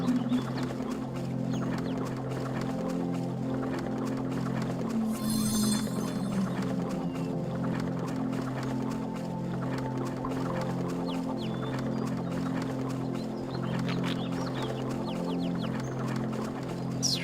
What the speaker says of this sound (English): Quit scaring the birds.